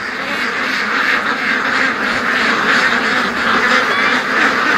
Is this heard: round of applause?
no